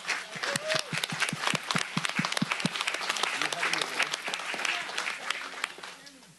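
Audience at a county supervisors' meeting breaks into lively applause for an award-winning team, with sharp individual claps up front, crowd voices mixed in, and a fade toward the end.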